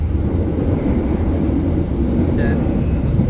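Heard from inside a Logawa passenger train carriage between Purwokerto and Lempuyangan, the train runs with a steady low rumble and wheel roar, constant and close, with a brief faint squeal midway.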